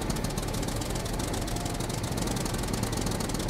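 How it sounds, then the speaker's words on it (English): A loud tractor engine in the survival video game Scum runs steadily and close, a dense, unbroken mechanical rumble with a knocking chatter throughout and no voices. "It's so fucking loud, that tractor."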